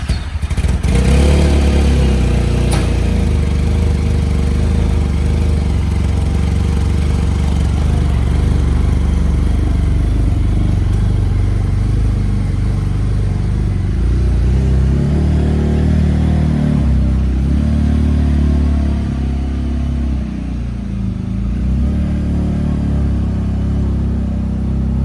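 El Jefe vehicle's engine started and revved nearby, a loud continuous rumble with a sharp clatter near the start, then rising and falling revs that hold strong throughout with no talking.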